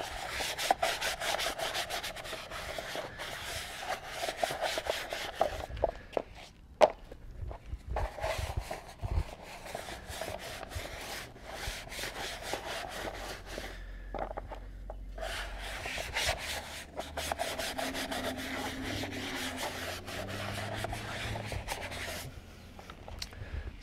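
Rubber car floor mats are scrubbed with a brush and Gummifix rejuvenator, giving a continuous close, rasping back-and-forth scrubbing with brief pauses between strokes.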